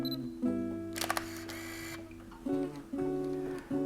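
A film camera's shutter fires in one clicking release, with mechanical winding and clattering around it, recorded close over a steady background hum and music-like tones.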